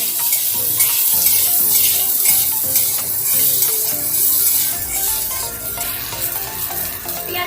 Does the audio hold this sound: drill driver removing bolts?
no